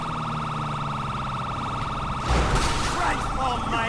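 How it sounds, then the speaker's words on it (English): A police siren wails in the Los Angeles–style streets of GTA V with the LSPDFR mod, a steady repeating warble with a burst of crashing noise and engine sound in the second half. "Siren, people, siren."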